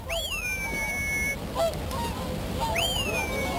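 Bewick's and whooper swans calling on a winter wetland reserve, loud nasal honking calls from several birds overlapping at close range, with a pause in the middle before another burst of calls.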